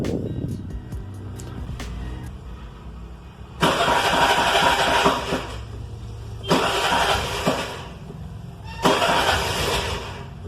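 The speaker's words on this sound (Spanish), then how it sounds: "Ahora lo que vamos a hacer es darle arranque y escuchar el sonido del arrancador" Starter motor of a TVS King three-wheeler with about 50,000 km and worn starter brushes cranking the engine in three loud, close bursts of whirring grind, each a second or two long with pauses between, after a few faint clicks.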